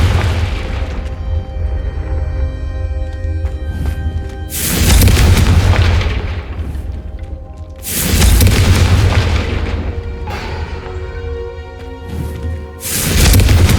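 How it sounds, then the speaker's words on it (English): Fiery Confringo spell blasts in the video game Hogwarts Legacy, three loud booming explosions spaced a few seconds apart, each a heavy rumbling burst over a continuous music bed. "a Confringo cast travels a bit farther than that of a spell like Incendio"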